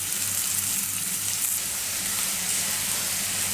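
Onions sauté in a pan with slit green chillies and salt for a chicken mulakittath, giving an even, dense sizzle throughout.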